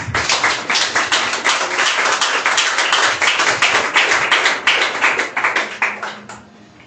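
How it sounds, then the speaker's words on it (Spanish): Applause from an audience at a book catalogue presentation, honouring two women. The clapping is loud, close and steady, with individual claps clearly separated, and it fades out over the last second. "Un aplauso para estas mujeres bellas."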